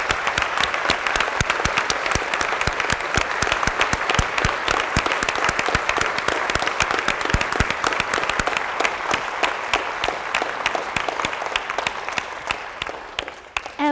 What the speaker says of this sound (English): give a standing ovation to the young people who just spoke to you